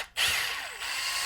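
A power drill whirs loud and close as it drives a screw into a track, a steady high motor whine that starts suddenly and carries on for about a second.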